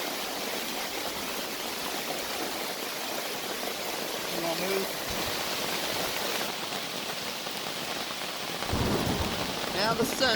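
Heavy rain pours steadily during a camping trip in a thunderstorm, with a dense hiss throughout and a low thunder rumble rolling in near the end, loud and close.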